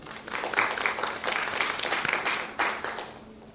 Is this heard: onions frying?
no